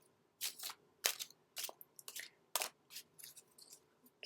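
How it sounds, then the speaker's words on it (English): Tarot cards being shuffled by hand, a series of short crisp riffling bursts with brief pauses between them, close and fairly quiet. "giving the cards another little shuffle"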